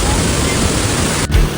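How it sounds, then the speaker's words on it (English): Shifen Waterfall roars with a loud, dense, unbroken rush of falling water, close by, dipping only for a moment near the end. "Here comes the waterfall."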